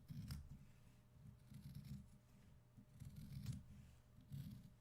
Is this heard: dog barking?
no